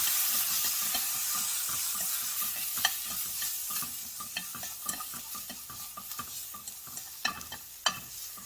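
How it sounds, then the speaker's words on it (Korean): Namul greens stir-frying in soy sauce in a home kitchen, a steady soft sizzle with repeated clicks and scrapes of a utensil stirring the pan, close and continuous with no talking. "간장에다 볶아서"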